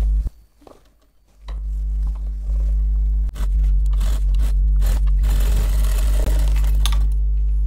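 An electric sewing machine stitches a cloth shopping bag, a low steady motor hum with rapid needle clatter that starts after a quiet moment and runs on loud and close.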